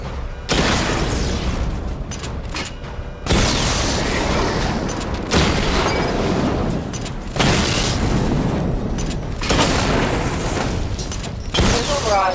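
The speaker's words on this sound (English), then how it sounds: "Charge the missile barrage to level 2 to destroy up to 4 targets at once." Batmobile missile barrage in Batman: Arkham Knight, a series of heavy booming launches and explosions in loud rolling waves, each surge separated by short lulls, with game effects underneath.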